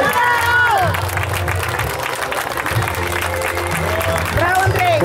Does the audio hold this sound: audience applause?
yes